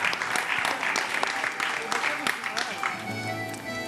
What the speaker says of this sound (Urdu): ماشاءاللہ، بہت ساری تالیاں ہونی چاہیے آپ سب کے لیے